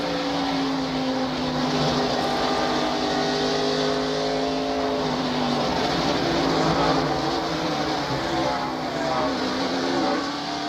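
NASCAR stock cars roar steadily past during a 1999 Goody's Headache Powder 500 race replay, a dense continuous engine drone with shifting pitch and crowd wash, loud and without breaks.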